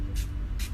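A 3-in-1 primer setting spray misted from a pump bottle in two quick, close hissing bursts, a short pause between them, with no talking.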